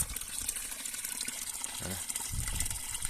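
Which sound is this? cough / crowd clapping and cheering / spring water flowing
spring water flowing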